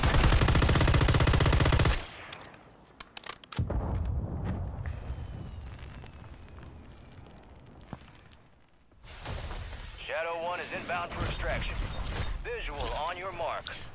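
Gunfire from Modern Warfare 3, played on PC, opens with a loud dense burst of automatic fire and continues with scattered shots and impacts, with a player's voice heard talking over parts of it.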